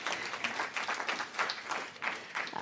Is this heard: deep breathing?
no